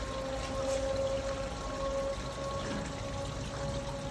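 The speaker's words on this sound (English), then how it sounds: "Water from upper sluice drains into lower sluice." Water gushing from an upper sluice gate into a lower sluice chamber under tremendous pressure, a steady, loud, continuous rushing roar that holds level from start to finish with no voices.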